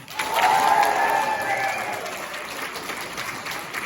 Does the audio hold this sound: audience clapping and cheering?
yes